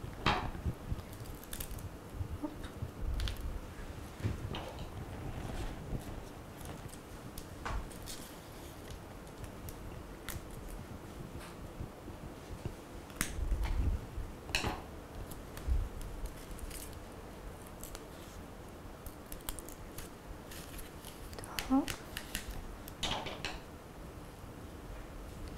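Quiet snips and soft clicks of scissors trimming the ends of quilling paper strips during paper craftwork, occurring as scattered brief cuts and taps with no talk.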